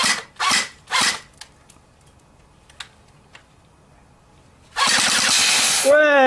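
BB gun shots hit an aerosol can, a few sharp cracks close together, then scattered faint ticks, followed by a loud sustained hiss as the can vents, with voices reacting near the end.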